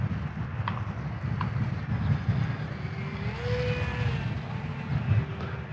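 An XK A160 J3 Skylark Cub RC airplane flies downwind, its small electric motor giving a thin whine that rises and falls, moderately distant, over a steady rumble of wind noise.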